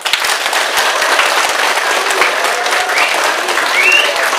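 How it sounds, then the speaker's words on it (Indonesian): Audience applause at the opening of a high school scientific paper exam ceremony in Maumere, a steady, dense clapping that holds loud and even for several seconds with a few sharper individual claps. "Buka dengan tepuk tangan bersama."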